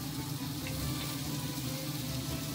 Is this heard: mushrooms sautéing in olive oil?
yes